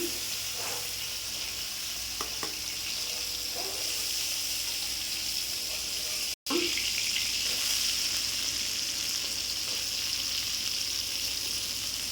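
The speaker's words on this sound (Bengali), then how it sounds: "মাছটা বেশি ভাজবো না মিনিট তিনে ভেজে তুলে নেবো" Fish frying in hot oil, a continuous close sizzle with occasional small pops and stirring taps, briefly cut off midway before resuming.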